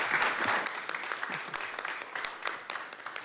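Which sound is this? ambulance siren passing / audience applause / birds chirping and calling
audience applause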